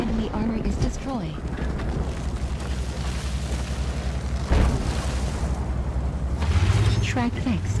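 An enemy tank is destroyed in a tank video game, with a sudden booming blast in the middle and deep rumbling later. Game voice callouts play around it, and engine drone runs underneath.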